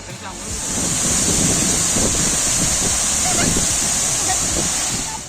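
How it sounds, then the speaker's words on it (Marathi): A waterfall roars as a steady broadband rush on a rainy monsoon trek in Maharashtra, heard close and constant, with wind buffeting the microphone. "अजून एक मस्त जाताना एक धबधबा लागतोय."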